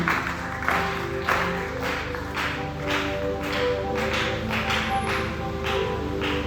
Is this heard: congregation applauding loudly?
yes